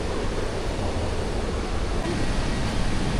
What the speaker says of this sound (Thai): ใครจะมาก็แนะนำเลยครับน้ำตกกำลังเยอะเลย